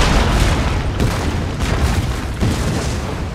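Black-powder artillery booms in Empire Total War, modded with Darthmod, roll through a battle. Several heavy, loud reports land about a second apart over a constant low rumble.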